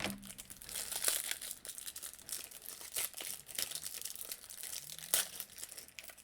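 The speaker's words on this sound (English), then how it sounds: "Some of these packages are really easy to open, and some of these are really difficult to open." Plastic packaging around Magic: The Gathering cards crinkles and tears up close, in irregular bursts of rustling and ripping with brief sharper snaps.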